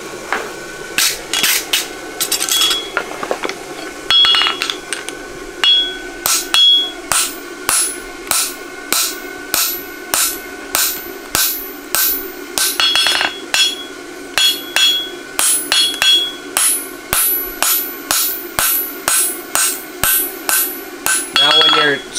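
A forging hammer rings steadily on a horseshoe at the anvil, making dozens of sharp, bright, closely spaced metallic strikes in an even rhythm that hardly pauses, loud and close. Now and then a brief pause breaks the run before the blows resume.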